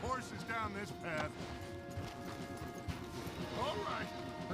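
Horse hooves clop in Red Dead Redemption 2, a mission scene with riding through trees, a faint steady clatter under ongoing voices and mechanical game sounds.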